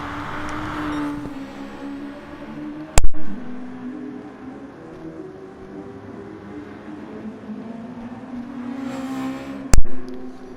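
A race car engine revs and drones steadily nearby during a DRSF round, its pitch rising and falling, with two sharp loud bursts as cars whoosh closely past.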